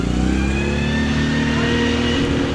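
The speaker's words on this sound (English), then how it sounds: "Nice sounding gears on that Mini." A Mini's engine revs loudly and steadily up close at an evening car meet, with rising tones as it works through its gears.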